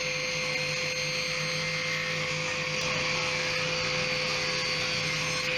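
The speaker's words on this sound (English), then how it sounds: "Then I cut the rebate in 2 passes and then cut the groove for the hooks." Router or power tool cutting a rebate and groove into a wooden picture frame, a steady loud whine held without pause, no talk.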